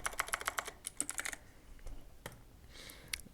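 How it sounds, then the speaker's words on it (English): Quick typing on a computer keyboard: a fast burst of crisp, close key clicks in the first second and a half, then a few scattered, softer keystrokes with short pauses between them. "Type here Xbox, just type here game mode settings"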